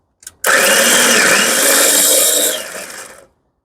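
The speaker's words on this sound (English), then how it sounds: "So I have this tiny little chopper that I got from my grandmother's house, and it's really, really loud." Small, very loud electric food chopper chopping Fatali peppers outdoors: a brief tap, then a sharp motor whir that runs steadily for about two seconds and winds down.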